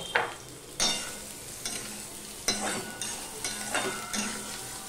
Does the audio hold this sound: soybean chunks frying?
yes